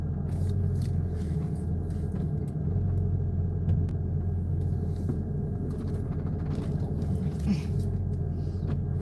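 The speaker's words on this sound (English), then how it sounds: "I like driving this car" Steady low rumble of a car's engine and road noise heard from inside the moving vehicle, constant and fairly loud throughout with faint background voices.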